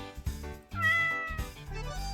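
Toasty the cat meows in the Paper Perjury game: a few drawn-out, close meows with rising and falling pitch, clear and alone with no voices.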